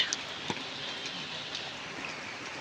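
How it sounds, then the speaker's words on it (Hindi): Steady rain falling outdoors, an even wash of patter with a few sharper drops, moderately loud and heard without talk. "शायद कैमरे में दिख नहीं रही, पर बहुत मस्त वाली बारिश लगी है।"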